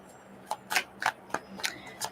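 A deck of tarot or oracle cards shuffled by hand in a quiet room, giving a series of soft, irregular riffling slaps and flicks about every quarter second, close and faint, with no talk.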